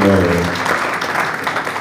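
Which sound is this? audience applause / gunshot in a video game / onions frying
audience applause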